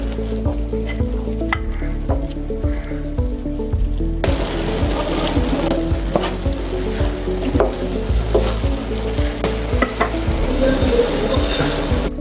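Mushroom dum biryani lightly stirred in a pot, a spoon scraping and knocking at a steady rhythm over a soft simmer. The sound grows fuller and noisier partway through.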